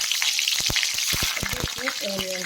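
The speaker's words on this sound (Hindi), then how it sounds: "और ओनियन को हमें फ्राई होने तक भूनना है, गोल्डन फ्राई तक।" Onions frying in a pan toward golden brown for a Karnataka-style peanut baigan masala, a bright steady sizzle broken by several sharp spatula clicks and stirring scrapes.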